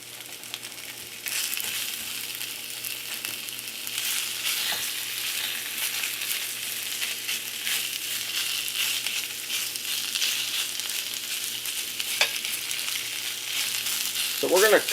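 Beef sizzles steadily in a hot pan for Mongolian beef, a loud continuous frying hiss with a few faint scrapes and a clatter near the end.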